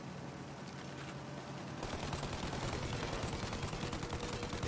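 Rapid automatic gunfire in the video game Mafia, aimed at a plane's engines, rattles in as a steady, dense stream after a quieter opening and keeps going to the end.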